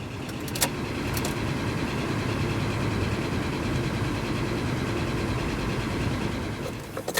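Rover K-series car engine cranking and catching, then running unevenly with a misfire, a continuous rough churning drone heard close up, with a few clicks near the end.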